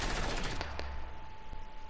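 Rapid automatic gunfire from the Fortnite video game, a dense burst of shots at the start followed by a few separate sharp cracks, loud and close, with no talk over it.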